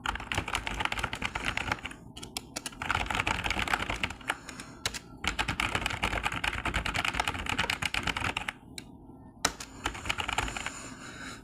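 Random text typed on a computer keyboard while setting up a Blogger site, a fast, dense stream of faint key clicks in continuous runs with a few brief pauses, alone with no speech.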